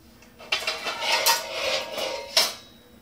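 A pan and utensils clatter while being handled in a kitchen for scrambled eggs, with a few loud clanking bursts and rattles over a quiet background.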